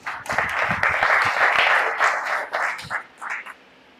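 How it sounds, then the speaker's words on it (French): Applause from an audience at a ceremony honouring top baccalaureate graduates in Bargny, Senegal. Dense clapping swells loud and steady for about two seconds, then breaks into thinner scattered bursts that fade near the end. "que je vous demande d'applaudir."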